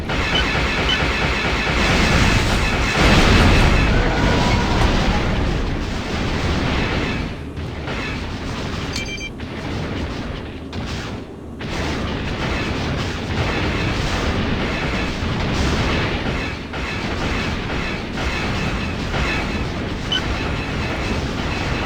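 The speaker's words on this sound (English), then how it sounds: "Enemy in range! I'm under heavy fire!" Space combat in the X-Wing Alliance video game, with dense, loud weapons fire and explosions rumbling continuously, one heavy blast near the start over a steady roar throughout.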